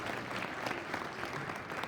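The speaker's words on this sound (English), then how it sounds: "give them another big round of applause" Sustained applause from a crowd for pageant contestants at the Ohio Fairs Queen contest, steady clapping without pause throughout, at moderate level and with no speech over it.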